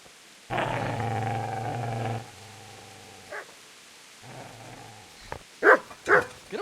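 A dog in the medieval RPG Kingdom Come: Deliverance lets out a long, deep, close growl, then a softer second growl, ending in a few sharp barks and yips.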